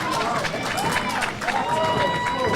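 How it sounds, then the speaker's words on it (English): Crowd noise swells at a submission grappling match late in a bout, a steady roar of cheering and scattered applause filling the arena, dense and continuous with no single claps standing out. "The crowd's getting into it now."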